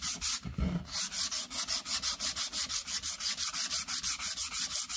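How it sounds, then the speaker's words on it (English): Rapid rhythmic scratching of sandpaper rubbed back and forth by hand along the edges of a wooden cribbage board, close and steady, about five strokes a second. "Gives them a nice sanding though,"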